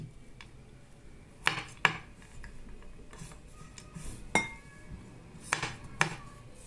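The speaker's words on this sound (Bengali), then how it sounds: "আর আমাদের লাগবে কিছু বাদাম। তো আমি এটা কুচি করে নিচ্ছি।" Lightly roasted nuts being chopped with a knife, a few sharp, scattered clicking taps spaced irregularly against a quiet kitchen background.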